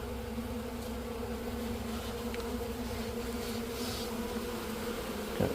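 A steady, dense buzz from a large mass of bees during a bee removal, close and continuous throughout, with no voices.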